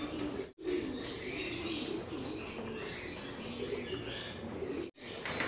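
Young racing pigeons at a loft landing board make soft, low cooing and light fluttering at close range. The sounds are faint and continuous, with two short breaks and no voices heard.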